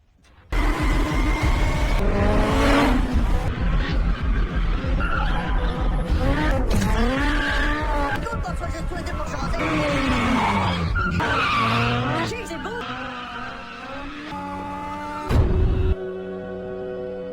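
Car lapping a race track with tires skidding and squealing, a loud continuous engine roar rising and falling in pitch, joined by music at the close.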